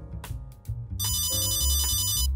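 A mobile phone ringtone rings loudly in a kitchen, a bright repeating electronic melody with layered tones that starts after a few short notes and plays steadily on its own.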